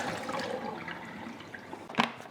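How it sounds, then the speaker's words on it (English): Running water from a sink tap as an espresso machine drip tray is rinsed, a soft continuous splashing with a brief clatter near the end, no talk. "I'm going to give the drip tray just a clean in the sink just to get rid of any coffee grounds that are inside."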